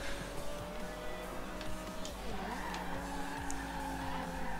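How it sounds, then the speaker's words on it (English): Car drifting in the racing game Forza, a sustained, wavering tire squeal over a steady engine drone, pitch dipping and rising as it slides around a corner, loud and continuous with no voice. "Perfect control drift all the way around a 45 degree corner."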